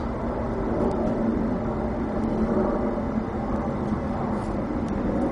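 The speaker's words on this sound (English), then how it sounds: "I'm hearing an airplane right now" An airplane passes overhead, a steady low, distant rumble that holds through the whole stretch with no voices.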